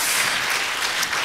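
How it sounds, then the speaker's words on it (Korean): Congregation applause at a church choir service, a dense, steady wash of clapping filling the space without a break, with no voices rising above it. "다시 한번 힘차게 박수로 와주시기 바랍니다"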